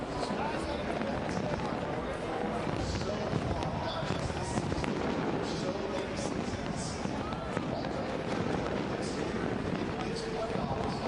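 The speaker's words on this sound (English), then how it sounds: "fireworks in the background" Fireworks going off at the end of a NASCAR Cup Series championship race, a faint spread of distant pops and crackles blended into crowd noise and talk throughout.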